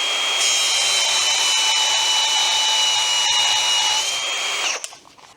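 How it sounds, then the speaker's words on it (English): A tiny angle grinder disc cuts through threaded bar with a loud, steady high-pitched whine and grinding hiss that holds for several seconds, then winds down and stops near the end. "now with me tiny little angle grinder disc"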